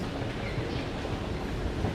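A train running through Singapore gives a steady, loud, continuous rumble of carriages on rails, with faint clickety-clack under the low roar and no talking.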